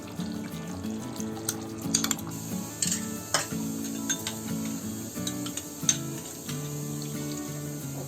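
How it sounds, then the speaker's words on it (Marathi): Cashew and poppy seed paste is stirred in a pan with a spoon, soft scraping and irregular knocks over a faint bubbling sizzle, up close and quiet, with no voices. "आता चांगलं ढवळून घ्यायचं"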